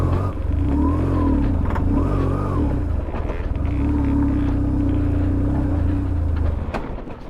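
A BMW R1150GS Adventure motorcycle engine revs steadily with a slipping clutch, a loud, continuous droning rumble that rises and falls in pitch, close up, with a few faint mechanical clicks.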